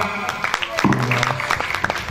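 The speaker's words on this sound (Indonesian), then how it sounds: "Oke, tepuk tangannya dong." An audience claps during a debate event, a short burst of applause mixed with a voice and some low murmuring, fairly close and steady.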